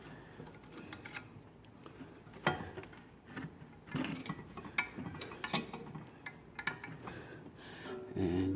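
Audi A6 front brake caliper pistons being compressed with the old pads still in place, giving a run of small clicking, ratcheting and metallic scraping taps, close but quiet, in an irregular rhythm.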